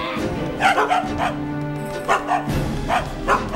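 Several dogs barking and yipping in short repeated bursts, close by, with a steady background tone underneath.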